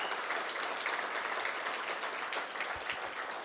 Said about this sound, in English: If everyone could just give them a cheer on for their hard work.